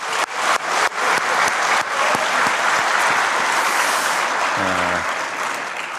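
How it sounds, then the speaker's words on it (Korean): An audience claps at a Korean event where Hyundai Motor announces an investment in Saemangeum. Applause starts with a few sharp claps, swells into full sustained clapping, then eases slightly toward the end. "우선 감사의 박수 한번 드리겠습니다."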